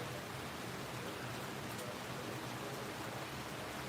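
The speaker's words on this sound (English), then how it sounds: "Yeah, we are getting a bit of rain," Steady broadband hiss of light rain falling outdoors, constant and even throughout with no distinct drops standing out and no talking.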